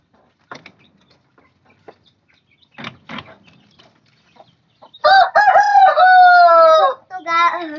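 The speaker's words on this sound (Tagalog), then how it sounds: "Chicken." Chickens in a coop give a few scattered soft clucks and knocks, then a rooster lets out a loud, close, drawn-out crow followed by a short extra call.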